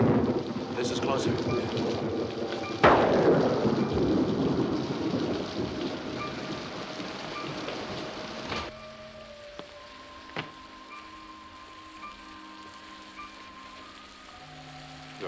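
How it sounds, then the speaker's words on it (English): In a scene from the 1957 film A Farewell to Arms, a loud crack of thunder rumbles and slowly fades over steady rain, which continues alone as a soft hiss afterward. "It's raining."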